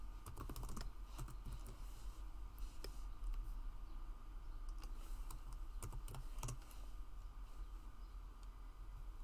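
Someone types steadily on a computer keyboard, entering a search in a WordPress plugin search box; the clicks are soft, close and irregular, with a few louder keystrokes over a quiet room hum.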